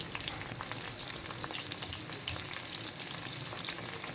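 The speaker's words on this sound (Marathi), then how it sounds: "छान क्रिस्पी होईपर्यंत आपण आता फ्राय करून घेऊया।" Corn kernels deep frying in hot oil until crispy, giving a steady, dense sizzle with fine crackles and occasional stirring, close and continuous with no voices.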